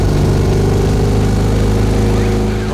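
Two-cylinder 602 cc engine of a 2CV-based car producing 34 horsepower, running steadily and loudly close by with a throbbing, buzzy drone and no talk.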